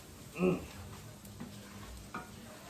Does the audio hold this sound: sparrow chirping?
no